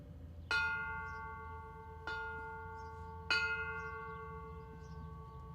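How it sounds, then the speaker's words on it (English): A bell is rung three times at a POW memorial ceremony, each clear metallic strike ringing out and decaying slowly, spaced over a quiet outdoor background. "Pete Eckhorn, another one of our junior voices, was the bell ringer today"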